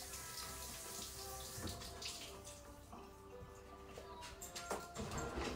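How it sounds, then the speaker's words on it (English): Running kitchen tap water splashing over a head of cauliflower during a quick rinse, a steady soft hiss and patter with occasional louder splashes, fairly quiet throughout. "So I'm going to take this cauliflower and I'm just going to give it a quick rinse."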